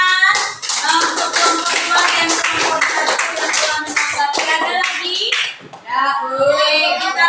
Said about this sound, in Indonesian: tepuk tangan untuk kelompok 2 dan kelompok 1 yang telah menanggapi